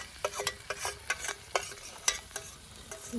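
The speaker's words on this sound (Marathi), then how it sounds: "तेलामध्ये परतू परतू घेते" Roasted, cleaned eggplant sautéed in oil with onion and garlic for Maharashtrian village-style baingan bharta, heard as a soft background sizzle with a series of quick spatula scrapes and taps against the pan; no voices.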